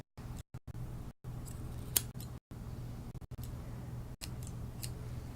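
Grooming scissors trim a Shih Tzu's hair in a series of quiet, close snips with short gaps between them, faint against a low background hum.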